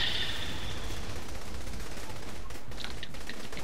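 Rapid bursts of gunfire from the Saints Row: The Third video game, a dense, loud continuous rattle of automatic shots with no talk over it.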